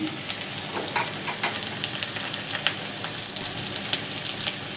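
Spices fry in a hot pan with a dense, steady sizzle as turmeric powder goes in, and a few scraping stirs and light clinks rise above the hiss; close, fairly loud, no speech.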